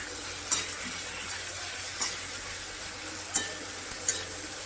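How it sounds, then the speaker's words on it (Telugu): Onions sizzle steadily in a pan with chili powder, pepper and salt for an egg gravy, while a spoon scrapes and clinks against the pan about four times. "ఆనియన్స్ మటుకి కొంచెం రెడ్ కలర్ వచ్చే వరకు వేయించుకొని"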